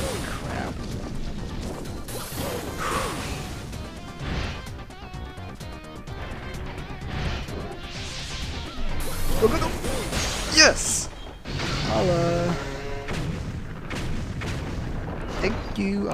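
Booming explosions and crashes in the video game Super Mario Galaxy 2 erupt repeatedly over about sixteen seconds amid game music and effects, with a player talking over them.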